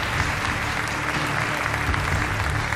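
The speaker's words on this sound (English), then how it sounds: "A warm applause for the draw panel." An audience at the UEFA Champions League group stage draw ceremony claps steadily for the draw panel, a dense, even wash of applause from a large crowd that fills the hall throughout.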